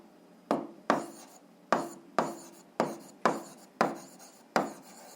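Answer written by hand during an algebra exercise: eight short, crisp strokes of pen or chalk at a fairly even pace, each with a sharp onset and quick fade, close and quiet against near silence, no talking.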